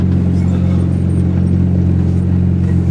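Turbocharged Honda Integra GSR making roughly 300 hp, engine droning loud and steady as it holds a hard pull, with a deep constant rumble and no voices over it.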